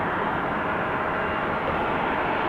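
A jet airliner takes off at Amsterdam Schiphol Airport. Its engines make a loud, steady broadband roar with no breaks, and no voices can be heard over it.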